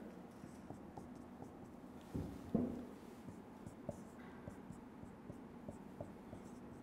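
Quick marker or chalk writing on a board during a chemistry lecture on phenol preparation, a steady soft scratching run with a louder stroke in the middle, close and fairly faint over low room hum.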